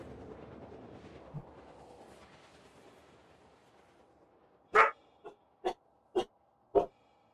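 A pet dog barks at home while a Star Citizen game stream runs: after a low murmur of background sound, five sharp, loud barks ring out close by at a fairly even pace over about two seconds.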